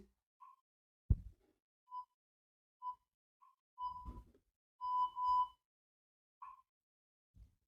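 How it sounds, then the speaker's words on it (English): An interval timer set to three seconds sounds short, clear electronic beeps at spaced intervals, a couple held slightly longer, between occasional dull thuds in a quiet room during bodyweight dips. "I have a timer every 3 seconds, so I can do controlled dips on the timer."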